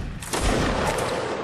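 Massed musket volley in a Napoleonic-style line-battle video game, a broad burst of overlapping shots rolling out at once from about a third of a second and sustained, loud and close, with no talk.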